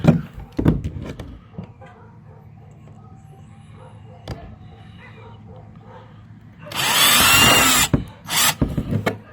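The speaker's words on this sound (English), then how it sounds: "I'm gonna drill a hole at the end of it." A power drill whirs loudly for about two seconds drilling a hole in a kayak hull at the end of a stress crack, preceded by scattered clicks and knocks, then a few short sharp bursts follow.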